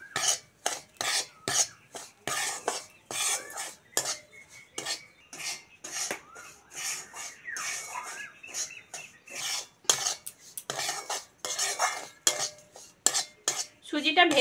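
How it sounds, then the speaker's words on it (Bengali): Semolina dry-roasting in a pan for mango payesh, stirred with a utensil in a steady rhythm of close, scraping strokes against the metal, with no talking. "সুজি দিয়ে সুজি ভেজে নেব।"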